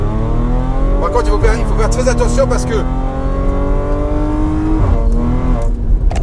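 A stage 3 ethanol Audi S5 making 510 hp pulls hard at full throttle out of a corner, its engine pitch rising steadily and loudly before a shift, with the driver talking over it.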